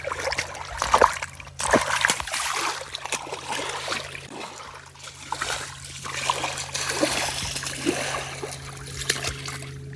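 A young child splashes about in chilly water outdoors on a camping trip near Yuma, Arizona, irregular splatters and sloshes rising and falling over a steady low hum.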